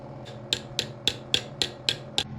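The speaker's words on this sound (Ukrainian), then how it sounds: "Тепер вставляємо дюбіля туди." Plastic wall plug dowels are pushed into holes drilled in bathroom wall tiles, making seven sharp, evenly spaced knocks about a quarter second apart, close and fairly faint against a quiet room.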